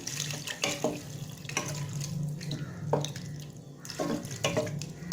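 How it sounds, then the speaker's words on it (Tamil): Steady stream of water running and splashing into a pan of chicken curry, with a few clanks and knocks of cookware over the continuous pour. "தண்ணி ஊற்றுறேன்."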